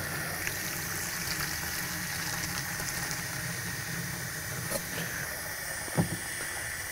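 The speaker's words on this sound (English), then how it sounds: "I'm just gonna fill it up with water" Water running steadily into a trash can for soaking a catalytic converter, a continuous hissing, splashing fill with a faint background hum and a couple of brief knocks.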